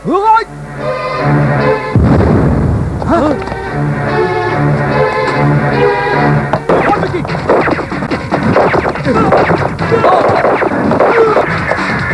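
Heavy booming bomb explosions and crashes erupt amid chaotic shouting voices, with rumbling debris filling the gaps between impacts, in a 2004 Indian television serial.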